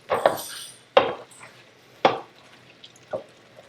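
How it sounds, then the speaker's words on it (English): A spoon stirs thick risotto in a pan with scallops nearby, four distinct wet, sucking squelches spaced about a second apart, close and fairly quiet, without talk. "It's kind of more of a sucking sound as the spoon moves from the side of the pan into the center"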